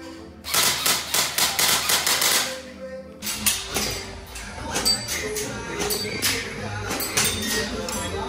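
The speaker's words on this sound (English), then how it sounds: "You can shoot here." Guns fire at a shooting range inside an Istanbul cafe: a rapid string of loud, sharp shots, a brief pause, then more bursts of fire that ring out in the room.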